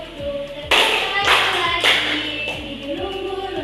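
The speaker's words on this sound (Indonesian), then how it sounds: "Buka tutup bertepuk tangan." Classroom students clap along to a children's action song, giving a few loud bursts of clapping over sung melody and voices, irregular and close, loosely following the song's rhythm.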